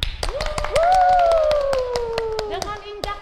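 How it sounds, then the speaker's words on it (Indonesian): Children and leaders clap their hands in a quick, regular rhythm at a Toraja church Sunday school worship service, sharp claps sounding under a sustained sung or called voice. "coba tunjukkan semangatmu dengan tepuk tangan"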